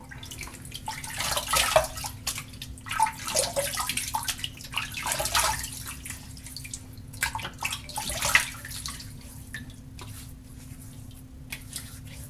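Water splashes in uneven bursts as hands wet a face at a sink before a wet shave with tallow shaving soap, close and fairly loud over a low steady hum, with no talking.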